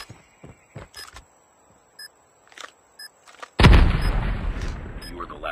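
A grenade blast in the Call of Duty Mobile video game erupts loud and close after scattered gunshots, game beeps and voices, its boom rolling into a long noisy rumble.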